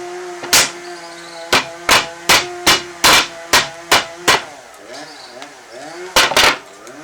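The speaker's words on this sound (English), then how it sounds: "And take your hammer" A hammer strikes repeatedly while knocking out a hole for a homemade money storage box, about ten sharp close metallic blows in an uneven rhythm, then ringing resonance and a final pair of hits.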